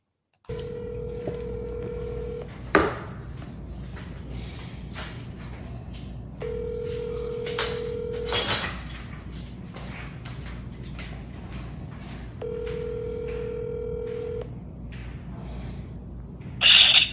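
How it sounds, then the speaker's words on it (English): Telephone call tones repeat at a steady spacing: three sustained ringback tones, each about two seconds long, with faint handling clicks and a couple of sharp knocks between them over a low hum. "I'm gonna show you the phone call that Bill Haney made."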